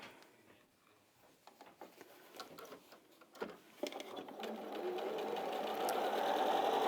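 An Elna 680+ sewing machine stitches a seam, starting with short uneven bursts and backstitching, then settling into a steady, fast mechanical whirr that builds and holds to the end.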